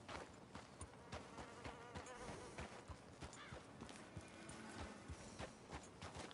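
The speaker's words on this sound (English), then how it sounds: "I hear horses, I think." Horses approaching in Red Dead Redemption 2, a busy clip-clop of hooves blended with dense outdoor ambience and buzzing insects, steady and fairly loud throughout with no talk.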